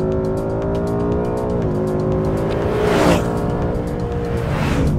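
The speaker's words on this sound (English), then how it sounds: "I love the sound of that engine. And unlike the Supra, this is naturally aspirated." A naturally aspirated Ford Mustang GT V8 roars loudly on a race track, a sustained close engine drone that shifts pitch as it goes through gear changes and throttle swells, with no talking.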